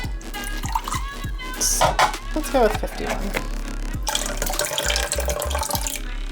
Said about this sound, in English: We're using distilled water. I'm just gonna pour it in my measuring cup first.